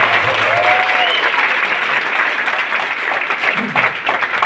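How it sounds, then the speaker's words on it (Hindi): A crowd at a Vestige car ceremony claps loudly for Santosh ji, steady applause that carries on for several seconds after a brief voice at the start, with light cheering underneath. "जोरदार तालियां संतोष जी को"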